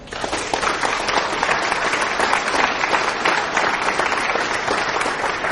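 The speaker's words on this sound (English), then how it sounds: "let's give our panelists at this moment a round of applause" A conference audience applauds panelists at an agriculture event, steady dense clapping that fills the whole stretch at full volume with no talk over it.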